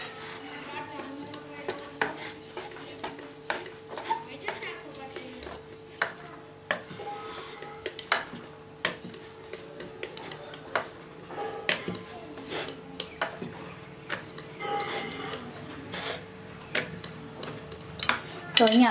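Wheat-flour paratha dough is rolled with a rolling pin in a series of irregular knocks and taps against the board, repeated steadily over a low background hum, with a voice talking at times.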